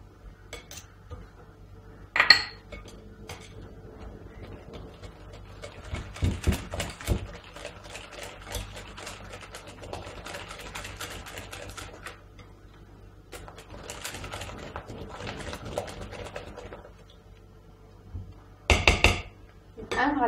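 Shortbread dough of butter, almond powder and starch being mixed in a bowl, with irregular scraping and clinking of a utensil against the bowl, moderately close, and a few louder knocks.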